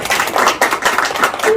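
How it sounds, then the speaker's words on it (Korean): An audience at a Lions Club leadership academy session claps to welcome a lecturer, a brief burst of close, sharp hand claps in uneven rhythm. "박수로 한번 환영해 주세요"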